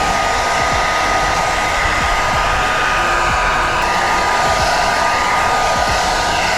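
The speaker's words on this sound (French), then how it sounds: "à l'aide d'un sèche-cheveux, on va venir sécher gentiment toute la surface." A hair dryer blows steadily and loudly without a break, gently drying a freshly finished surface while preparing a VW T5 4Motion van; the constant airy roar is close and no one speaks.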